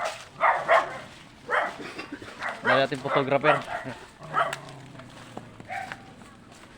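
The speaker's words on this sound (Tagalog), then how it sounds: "May aso boy mong tapang" A dog barks and yips several times while people talk over it nearby, with some background hiss.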